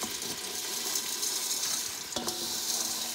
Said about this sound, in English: I'm going to add my vermicelli to the pot.